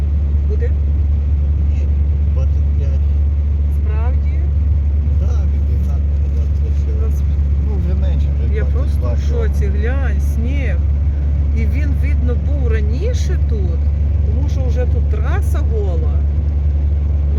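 Low steady engine and road rumble of a car driving along a snowy road after a blizzard, continuous throughout, with people talking over it.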